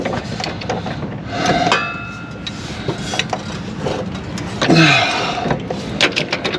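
Removing a bolt and large washer from a control arm: scattered metallic clanks, taps and tool rattles close by, with a brief scraping squeak partway through and no talking.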